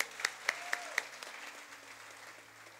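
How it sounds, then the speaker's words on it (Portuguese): A few sharp, distinct claps ring out in a church hall, then a softer spread of applause from the congregation that quickly thins into quiet room tone. "Vamos aplaudir mais uma vez."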